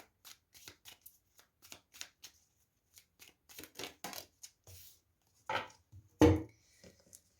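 Tarot cards being shuffled and drawn at close range: quick bursts of riffling and soft slaps in irregular clusters, ending with a sharper card snap; faint and intimate with no talk.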